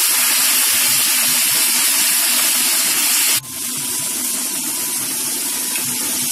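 Ginger paste and tomato sizzling in hot oil for a Bengali doi potol curry, a loud steady hiss that briefly drops and then continues as more goes in.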